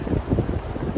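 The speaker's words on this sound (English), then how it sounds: "It's very, very windy at the moment." Strong wind blows outdoors as a motorcycle shelter shed is being assembled, producing a steady low buffeting rumble against the microphone throughout, with no voices.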